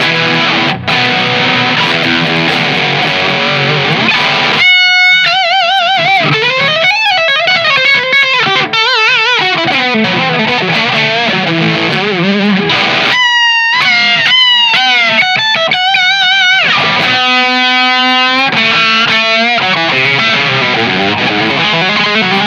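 An electric guitar on its bridge pickup plays through heavy distortion, with sustained saturated chords and riffs alternating with brief muted gaps and faster picked passages, loud and alone.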